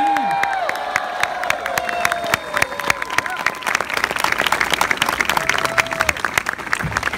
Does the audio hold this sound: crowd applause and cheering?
yes